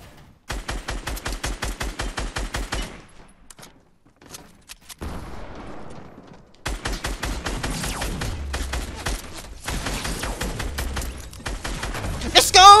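Rapid automatic gunfire in the Fortnite Battle Royale video game, loud bursts of evenly spaced shots with brief pauses between volleys, a player talking excitedly over the action.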